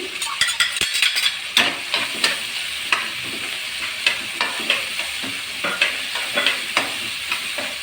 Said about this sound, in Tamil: நல்லா கொஞ்சம் நேரம் வதக்கி விடலாம்.